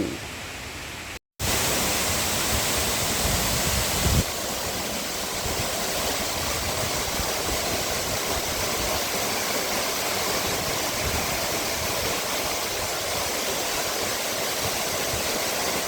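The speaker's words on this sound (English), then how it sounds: "I think there's one more waterfall to see on this trail" Waterfall on a walking trail in Macquarie Pass National Park, a steady broadband rush of falling water that holds constant and loud throughout, broken only by a brief silent gap near the start.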